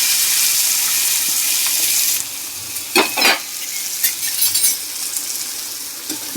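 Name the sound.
tempering spices sizzling in oil for cashew bitter gourd curry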